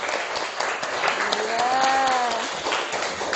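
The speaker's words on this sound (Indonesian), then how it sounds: "Beri tepuk tangan dulu untuk kelompok 2." A classroom of students claps for a group after their biology lesson presentation, a steady spread of applause lasting a few seconds, with a voice speaking briefly over it.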